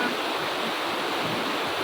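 A clear mountain river in Aceh flowing out from between the hills, a steady, dense rush of water close by, continuous and even with no voices.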